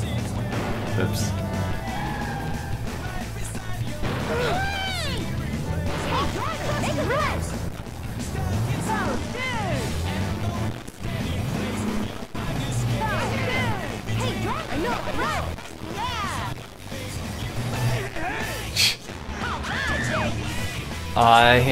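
Car crashes in the video game Crazy Taxi 2, with repeated smashes and thuds over engine noise and loud rock music while a player talks throughout.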